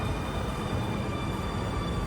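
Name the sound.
underground train in Germany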